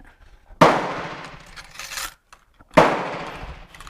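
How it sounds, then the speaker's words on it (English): Two sharp knocks, each with a hard impact and a ringing, scraping tail, come about two seconds apart as a bullet is hammered out of a Danish 11.7 caliber rolling block cartridge; there is a brief rustle between them and no talk. "I'm going to knock the bullet out"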